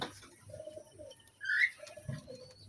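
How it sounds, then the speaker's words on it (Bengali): Pigeons on a pigeon farm coo softly in low repeated phrases, with one brighter, louder call near the middle of the clip. "এগুলো আমার সব শখের পায়রা"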